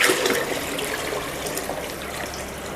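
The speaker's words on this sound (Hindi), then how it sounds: "6 लीटर पानी और डाल देना है।" Water is poured into a mixture for making cumin-flavored drink in a small home factory setup, a steady close gushing splash lasting a few seconds, no voices.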